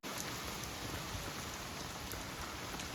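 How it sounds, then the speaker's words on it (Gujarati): Steady heavy rain falling in a village, a dense, even hiss of drops on surfaces with no pauses, loud and close, no voices. "અત્યારે વરસાદ ચાલુ છે"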